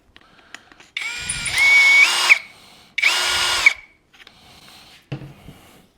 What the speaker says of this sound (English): Got our cordless drill.